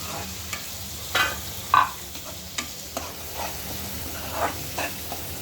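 Onion cooked soft in a pan sizzles steadily while a spoon stirs and scrapes, giving a few sharper knocks and clinks over the even frying hiss.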